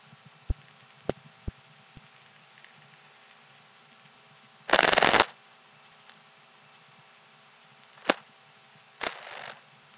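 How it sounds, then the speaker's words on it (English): Step-by-step telephone switching equipment in an office gives sharp, isolated mechanical clicks, with a short burst of louder rattling in the middle and a few more clicks and a brief rattle later, all over a low steady hum. "That's just local step noise from our office."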